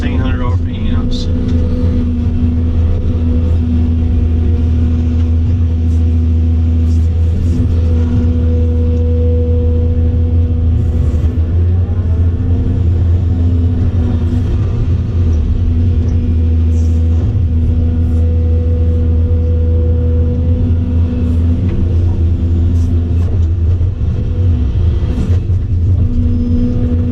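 A Volvo 700 excavator's diesel engine runs at 1600 RPM, a loud, continuous low rumble with steady tonal hum throughout and faint scattered knocks of working on top.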